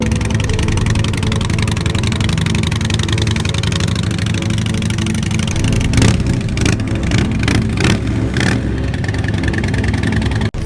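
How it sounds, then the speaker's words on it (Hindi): A motorbike engine idles roughly, then revs and pulls away, its rumble shifting and fading as the bike moves off. "वो अपनी बाइक पे छलांग मार के बैठ जाता है और मोटू को ढूंढने के लिए निकल जाता है।"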